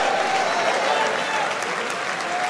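An audience applauds steadily at a church leadership gathering, a dense continuous wash of clapping with a voice faintly audible over it.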